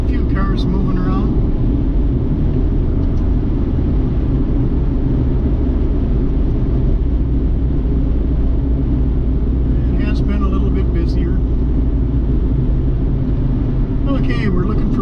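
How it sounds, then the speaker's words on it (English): Low, constant rumble of a few cars moving along roads in Quartzsite, Arizona, with occasional brief higher noises rising over the steady drone. "A few cars moving around."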